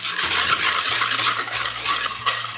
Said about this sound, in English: Now I'm gonna mix all the wet ingredients together.